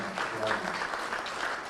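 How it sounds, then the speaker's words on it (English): A crowd at a Mwai Kibaki memorial lecture applauds the panelists, a continuous spread of clapping at even loudness throughout, with faint voices mixed underneath. "A big round of applause for the panelists"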